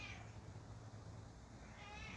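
A cat meows twice, a short call at the start and a longer, rising one near the end, fairly close but soft against a quiet room with a low hum.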